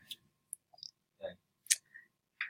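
Keyboard keys pressed a few times to zoom an editing timeline, giving scattered sharp, light clicks at close range with quiet gaps between them.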